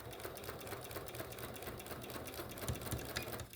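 A sewing machine stitching a quarter-inch seam on a log cabin quilt, its needle hammering in a fast, even, continuous rhythm close by.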